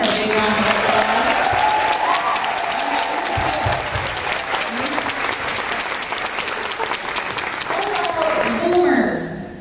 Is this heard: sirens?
no